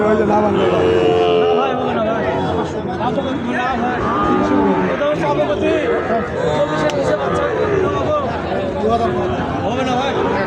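At a busy rural cattle market, Sahiwal bulls and calves low now and then beneath continuous loud bargaining voices and crowd chatter close by.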